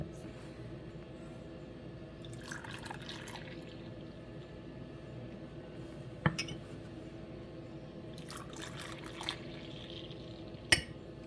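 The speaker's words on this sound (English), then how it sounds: "We could now pour it into our serving glasses." Masala chai is poured into serving glasses, a quiet liquid stream filling them in a couple of short bursts, with a few sharp glass clinks standing out.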